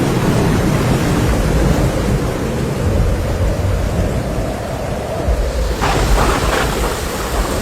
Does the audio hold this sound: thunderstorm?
yes